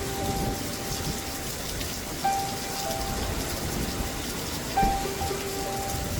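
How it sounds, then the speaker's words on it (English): Gentle rain falling steadily, a soft continuous hiss and patter of drops with no other sounds over it. "As you listen to the gentle rain"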